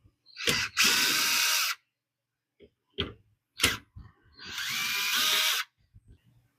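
Screws being backed out of the rear cover of an HP DeskJet 2800-series printer with a power driver, two sustained whirring runs with a few short clicks and taps between them, close and fairly loud.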